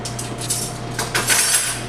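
A large soup spoon handled against other metal cutlery, giving several light clinks and scrapes over a steady low hum, close and moderately loud.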